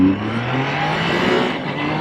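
A Triumph Trident 660 motorcycle accelerates hard. Its engine roar is loud, steady and close, with a rising tone and no pauses.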